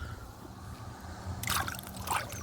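A small bluegill released by hand back into lake water off a fishing boat makes a brief splash and slosh after low, quiet background rumble, fairly close.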